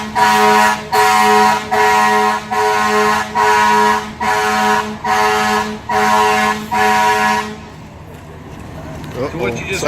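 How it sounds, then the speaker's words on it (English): A California fire department's air horn sounds an emergency evacuation signal at a firefighter graduation demonstration: eight loud, evenly spaced blasts in a rapid rhythm, then quiet with faint crowd noise. "horn blast is an emergency evacuation signal."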